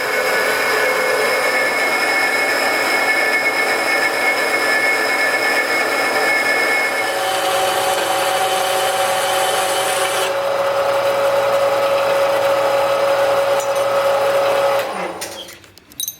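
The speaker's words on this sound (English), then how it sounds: "So I'm going to be trimming this up into a few pieces using the bandsaw" Bandsaw cutting a part into pieces for an LED light project, a loud steady buzzing whine with shifting tones as the blade works through the material for about fifteen seconds, then winding down with a few clunks.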